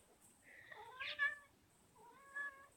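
A pet cat gives two clear, fairly close meows about a second apart, the first longer and stronger, over a quiet room background.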